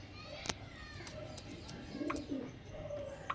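Pigeons, long-bodied top-class Kalshira and red-vein birds, coo softly in low murmuring phrases amid faint chirps and a couple of sharp clicks, with no voices over them.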